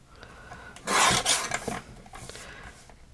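Paper craft piece being trimmed, heard as a short, loud rasping scrape up close followed by a fainter second stroke, with no voices.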